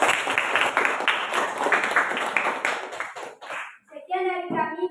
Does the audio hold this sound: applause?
yes